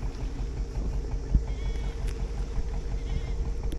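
Goats bleat faintly from the shore near a sailboat anchored in a choppy cove, barely rising above steady wind and water noise.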